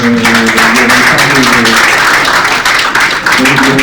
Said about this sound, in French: je vais vous demander d'applaudir et de remercier nos 4 conférenciers